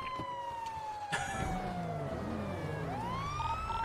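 A wailing police siren in GTA V roleplay (NoPixel 4.0) sweeps up and down in pitch, fairly loud and close, with a brief clunk partway through and no speech.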